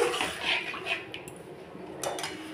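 A spoon stirs bhola fish curry in a metal pot, giving soft, quiet scraping clinks in a few irregular strokes with short pauses between them.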